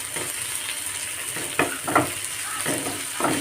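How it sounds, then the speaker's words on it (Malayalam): Curry leaves sautéing in a frying pan while making a breadfruit and jackfruit-seed roast, a close, steady sizzle broken by several scraping stir strokes, with no talking. "ഇനി ഇതിലേക്ക് ഞാൻ കുറച്ച് കറിവേപ്പിലയാണ് കേട്ടോ ഇട്ട് കൊടുക്കുന്നത് നന്നായിട്ട് വഴറ്റിയെടുക്കാം"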